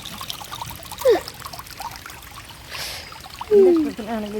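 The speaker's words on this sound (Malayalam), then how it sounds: "നമ്മളെ വീടിന്റെ മുറ്റത്ത് വെള്ളച്ചാട്ടൊക്കെ ഉണ്ട്" Water trickles and burbles steadily nearby down a small waterfall in a house yard, with a couple of brief vocal sounds over it.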